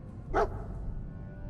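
A dog barks once in a video game, a single short, fairly loud bark over a steady low background hum.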